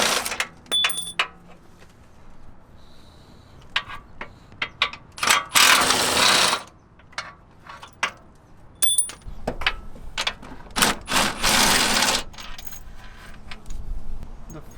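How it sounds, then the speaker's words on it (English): Close metallic clinks and rattling ratchet bursts as bolts are backed out of the subframe of a BMW F10 528i with an N52 engine, irregular and separated by quiet gaps. "Now we're gonna completely take the bolts off."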